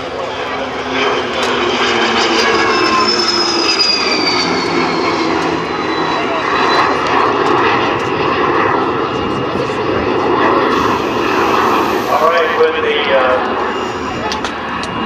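A Cirrus SJ-50 jet flies past at an air show demonstration, a loud continuous engine roar with shifting pitch over the whole stretch, and an announcer talking over it.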